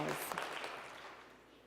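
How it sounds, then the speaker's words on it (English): An audience at a closing session claps for itself in a brief burst of applause that starts full and fades away quickly, with a voice heard near the start. "Give yourselves, yes, a round of applause."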